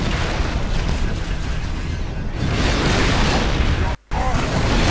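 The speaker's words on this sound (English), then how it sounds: "Massive explosion." A massive explosion in Halo 3 booms as a dense, roaring blast that fills the mix for several seconds, loud and close, with a brief sharp cutout near the end.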